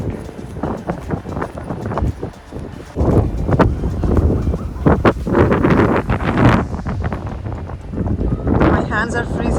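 Strong blizzard wind in a Canadian winter snowstorm buffets the microphone in heavy, continuous roaring gusts that swell and ease without pause, with no clear talk over it.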